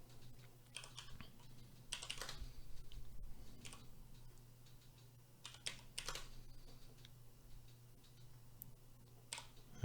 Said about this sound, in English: If I type the ticker in, right?